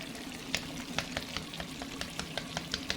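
Green peppers and browned meat for chilli stirred together in a hot pan, a steady background sizzle broken by regular light scraping clicks from the spoon, close and alone with no voices.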